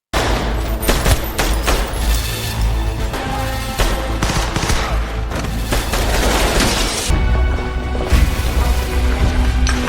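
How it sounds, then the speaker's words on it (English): Assault rifle gunfire in a film fight scene as assassins storm a yakuza headquarters, dense overlapping bursts and booms filling the whole stretch, loud and relentless with crashes mixed in. "Kate, Kojima, and his assassins infiltrate Renji's headquarters and kill all the guards with assault rifles."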